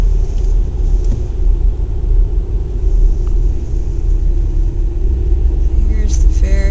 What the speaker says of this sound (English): here's the traffic on the other side of the road